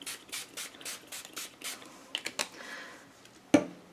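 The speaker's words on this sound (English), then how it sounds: "I will spray paper with water first." Quick bursts from a spray bottle misting water onto paper hiss in a rapid series of short puffs, followed by a few clicks and one sharper spritz, close and alone.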